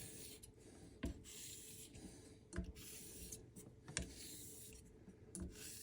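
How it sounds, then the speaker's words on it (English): A straight razor is honed with X strokes on a sharpening stone: quiet, rhythmic scraping strokes with sharp clicks roughly every second and a half as the blade turns, close and alone. "we'll just finish it off on this stone with a couple of X strokes here"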